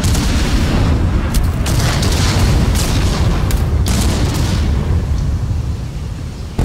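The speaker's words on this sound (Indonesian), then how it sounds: "Serangan nuklir, cok." A nuclear attack explodes in a video game as a loud, continuous low rumble with sharper bursts layered over it, filling the whole stretch without any voices.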